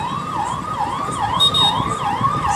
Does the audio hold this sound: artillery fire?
no